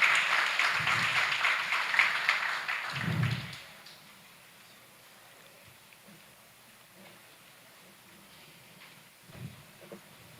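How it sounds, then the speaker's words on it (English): Applause for the Naparima College debate team at an inter-secondary schools' debate competition, a loud burst of clapping for the first few seconds that then fades into quiet room tone. "I think we could give them a round of applause as they make their way forward to receive their prizes"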